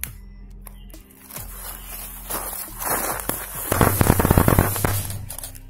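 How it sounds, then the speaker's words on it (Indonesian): A small firecracker set off outdoors for a photo effect; faint ambient sounds and light rustling give way to a burst of rapid crackling pops lasting about a second, followed by quieter crackles. "Ini petasan yang kedua, letaknya berbeda ya."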